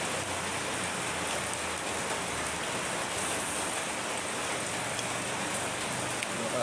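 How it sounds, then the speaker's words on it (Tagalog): Steady rainfall in a rural Philippine setting, a continuous hiss of drops pattering on surfaces, even and moderately loud throughout with no voices. "1 week na siguro ditong palaging umuulan dito sa amin"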